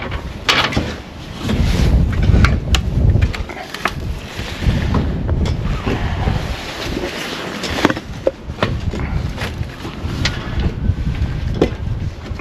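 Gusty wind buffets the microphone outside a house under exterior renovation, rumbling in uneven surges with occasional knocks and clicks, no speech.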